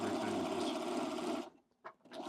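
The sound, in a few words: sewing machine running after restart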